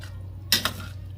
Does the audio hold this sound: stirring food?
yes